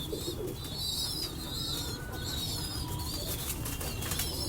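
Pigeons coo in low, repeated murmurs while wings flap and rustle now and then, close and fairly even throughout, with no one speaking.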